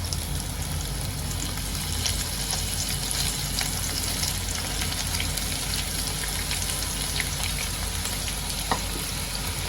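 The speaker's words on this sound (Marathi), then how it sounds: "आता अशाच प्रकारे मी सगळ्या भेंड्या ज्या आहेत ते तेलामध्ये चांगलं फ्राय करून घेते" Okra pieces frying in hot oil over medium-low heat, a continuous dense crackling sizzle held at an even level from start to finish, close and uninterrupted with no talking.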